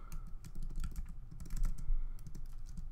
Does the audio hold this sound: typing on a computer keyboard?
yes